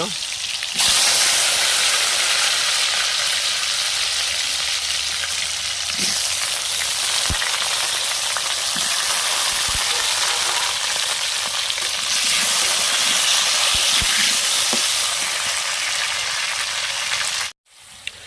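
Potatoes frying in hot oil give a loud, dense, continuous sizzle up close. A few faint clicks sound beneath it before it cuts off abruptly near the end.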